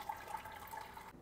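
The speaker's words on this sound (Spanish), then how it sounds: "Ahora le pondremos las 4 tazas de agua caliente." Hot water is poured from a cup onto lemon gelatin powder in a bowl, giving a faint, steady splashing trickle that stops abruptly after about a second.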